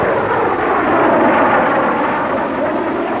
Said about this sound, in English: Low-level reconnaissance planes at near treetop level surprise the Cuban anti-aircraft crews